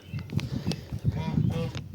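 Geese honk repeatedly in short, uneven bursts, fairly close and loud, several calls overlapping.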